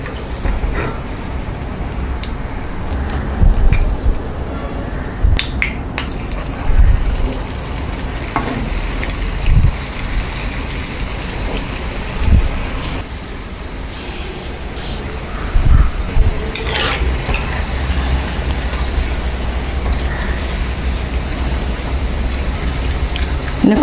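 Semiya pakora deep-frying in oil bubbles and crackles loudly and continuously up close, with occasional clatters and scrapes from a utensil.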